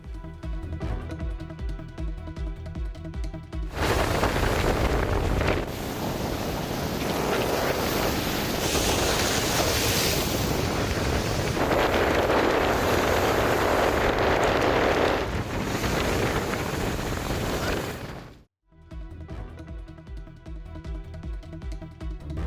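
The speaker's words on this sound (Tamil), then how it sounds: "பலத்த சூறைக்காற்றால் தனுஷ்கோடியில் கடல் கொந்தளிப்புடன் காணப்பட்டது." Rough sea and strong gale winds at Dhanushkodi: a dense, continuous roar of crashing waves and wind buffeting lasts about fifteen seconds, with a music bed before and after.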